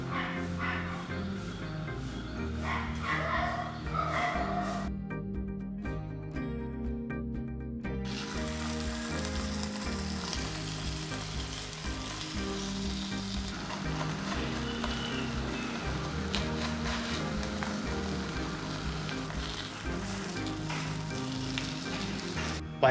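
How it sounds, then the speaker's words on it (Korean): Seasoning-sauce-coated grilled eggplant cooks again over low heat in a pan, giving a steady, soft sizzle that runs throughout beneath prominent background music. "구운 가지 위에 양념을 발라 한 번 더 구워줍니다."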